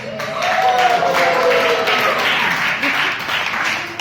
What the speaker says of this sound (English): A big round of applause because all are qualified.